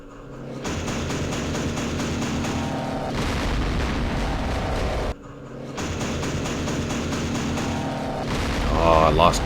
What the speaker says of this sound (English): We'll continue smoking this with artillery.